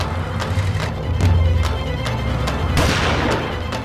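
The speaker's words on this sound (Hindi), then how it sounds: "पटाखे नहीं फोड़ रहे हैं प्रिय, गोलियां चला रहे हैं, गोलियां।" Gunfire in a Hindi comedy scene with Yamraj: a rapid series of sharp shots and booms crackling over a continuous noisy background.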